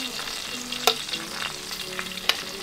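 Fish frying on a stove inside a hot tent while camping, a steady close sizzle with a few sharp clicks and scrapes as the pan is stirred or the fish turned.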